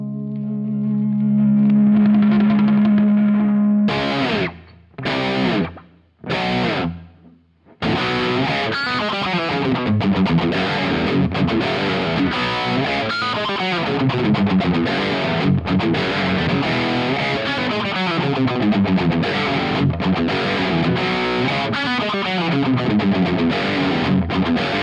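Distorted electric guitar played through a Quad Cortex preset into a Randall XLT412 cabinet with a tweaked plexi-style tone, a held chord ringing, a few choppy stabs, then a continuous loud riff with effects.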